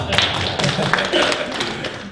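A church congregation claps hands together in a dense burst of applause that fills the whole moment, with a voice faintly audible beneath.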